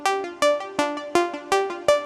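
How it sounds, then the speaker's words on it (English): A synth patch layers a sine wave beneath a sawtooth pluck, producing a rapid sequence of bright, buzzy notes at a steady pulse, each attacking sharply and decaying quickly over a rounded low undertone. "That kind of squelchiness of that sine wave underneath the sawtooth."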